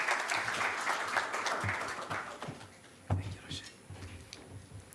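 An audience at a pre-budget public discussion gives an economist a warm round of applause that fades out after about two seconds, followed by a few isolated claps and room noise as the applause dies away.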